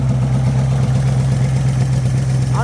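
A small engine idles steadily on its own fuel supply after sitting unused for a couple of months, a constant low drone holding close and even throughout.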